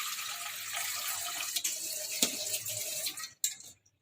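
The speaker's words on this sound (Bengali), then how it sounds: "এবার এর মধ্যে একটু জল দিয়ে দেবো।" Water poured into a pot of vegetables, a steady splashing stream that breaks into a few sharper spills and stops near the end, close by with no talk.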